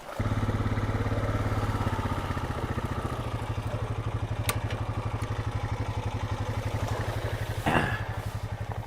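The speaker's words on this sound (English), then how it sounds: "I'm going to go get the four-wheeler" A four-wheeler ATV engine idles close by on a cattle pasture, a steady, even mechanical putter with a rough rattling edge throughout, loud and alone.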